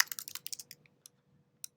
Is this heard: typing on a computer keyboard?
yes